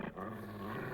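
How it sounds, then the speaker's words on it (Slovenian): A dog growls in a low, continuous rumble for about a second, close and fairly quiet, with no talking. "Pridi, kuža, pridi."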